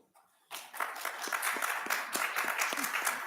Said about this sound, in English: We clapped for you.